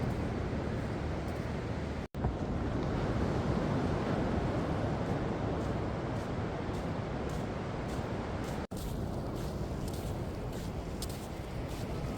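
Sea surf rolling in at Payyambalam beach, where the water has pulled far back, makes a steady, loud, wind-buffeted roar. It runs continuously without talk, broken only by two brief dropouts.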